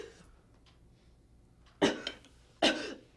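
A choking person coughs twice in strong, close bursts about a second apart, after a stretch of quiet breathing and faint rustle.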